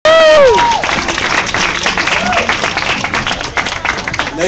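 An audience at a live spoken-word and music event applauds and cheers, steady dense clapping with a whistle or whoop at the start, loud and close, with a few voices mixed in.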